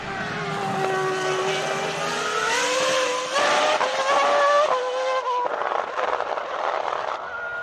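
A BMW FW26 Formula 1 car's V10 engine screams at very high revs, pitch rising and falling through gear changes, loud and sustained.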